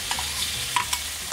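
Pork belly is stir-fried in a pan for Thai coconut-milk noodles, giving a close frying hiss punctuated by a few sharp spatula clicks against the pan.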